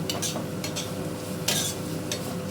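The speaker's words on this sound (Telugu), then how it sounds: "క్యారెట్ని ఈ నెయ్యిలో బాగా ఫ్రై చేసుకోవాలి" Carrots frying in ghee for carrot halwa, stirred with a utensil: a steady sizzle runs throughout, broken by several sharp scraping strokes against the pan, close and fairly loud, with no talking.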